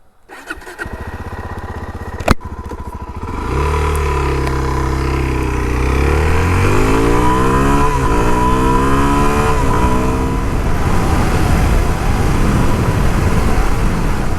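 A Suzuki DR-Z4S motorcycle starts with a sharp click and crank, then idles and revs up through rising engine pitches as it pulls away, the loud close engine note building and holding steady.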